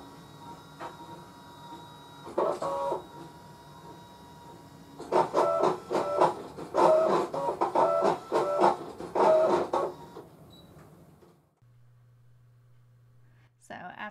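A DesignNCut DC200 cutting machine cuts out a card design, giving a run of rapid rhythmic mechanical chatter in bursts with pauses, close and fairly loud, ending in a low steady hum.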